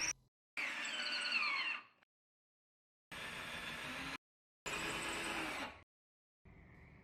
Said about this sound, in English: At this point I can drill holes for the lag bolts.